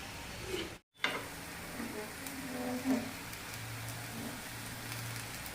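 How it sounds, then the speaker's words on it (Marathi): A potato and wheat flour snack pan-roasting until crisp, with a faint, steady, rain-like sizzle throughout and one brief dropout near the start. "चांगले याला खरपूस असे आपल्याला भाजून घ्यायचे."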